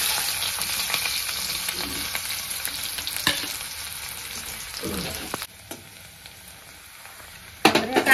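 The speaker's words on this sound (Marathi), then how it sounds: "हे बारीक चिरलेला कांदा मी टाकून घेणार आहे।" Finely chopped onion frying in hot oil seasoned with cumin and mustard seeds gives a loud, dense sizzle that eases off about halfway, then flares up again near the end as the onion is stirred.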